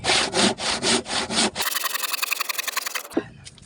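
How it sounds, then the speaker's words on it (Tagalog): Rhythmic rasping strokes of a hand saw cutting through wood, slow long strokes at first, then a quicker run of short strokes. "doon pala ulit tayo makakagamit ng lagari"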